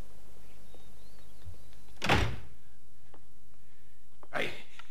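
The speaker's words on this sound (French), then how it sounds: "fermez la porte." A door closing in a French-dubbed horror anthology scene, heard as a loud single thunk, followed a couple of seconds later by a second, softer thud.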